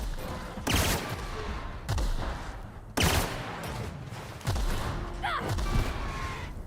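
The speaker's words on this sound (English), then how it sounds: "Pretty decent grenade launcher you got there, brother." A grenade launcher fires in the sci-fi shooter The Outer Worlds, four heavy booming shots spaced about a second apart, each with a rolling explosive tail amid ongoing combat noise.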